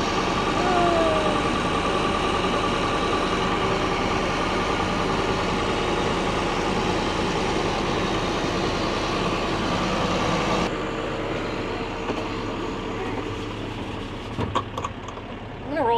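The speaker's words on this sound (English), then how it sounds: "I'm gonna roll my window up so I can hear my truck a little bit better" A truck engine runs steadily in first gear while hauling a load of potatoes, a loud continuous low rumble heard from inside the cab that drops off abruptly near the end.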